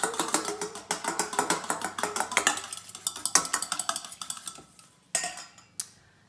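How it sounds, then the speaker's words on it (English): An egg is whisked briskly in a bowl for Italian-style chicken cutlets, giving a fast, even series of close clinking taps that slows and fades, then a couple of final louder knocks. "Okay, you need to beat the egg."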